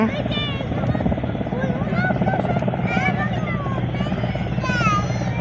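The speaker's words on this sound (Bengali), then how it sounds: "এই যে হেলিকপ্টারটা নামতেছে" A helicopter landing at the Bangladesh Air Force Museum in Agargaon, steady rotor roar and engine whine dominating up close, with voices talking over it.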